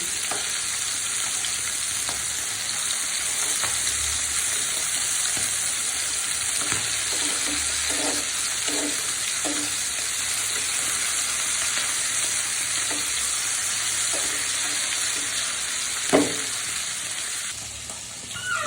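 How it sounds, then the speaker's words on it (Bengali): Fish fried crisp in a kadai with a little oil for a mustard-paste fish bhuna, giving a steady close hiss of sizzling fat with faint stirring clinks and one sharp tap near the end, no talking. "মাছগুলো কড়া ভাজি করে নেবে"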